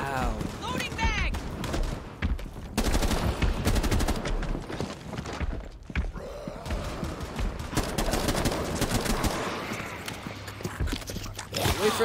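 Gunfire from Rainbow Six Siege in Outbreak mode bursts in repeated rapid volleys with scattered single shots, loud and close amid chaotic game noise, while a person talks excitedly over much of it.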